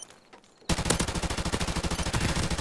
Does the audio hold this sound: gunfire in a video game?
yes